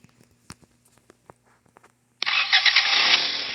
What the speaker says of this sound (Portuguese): Tá ligando a primeira partidinha.